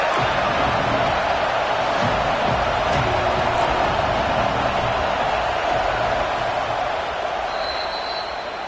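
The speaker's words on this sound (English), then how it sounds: "this crowd is at fever pitch" Football stadium crowd roaring at fever pitch during a Hoosiers red-zone third-down play, a dense, steady wall of cheering that stays loud throughout, with a few faint thuds and whistles mixed in.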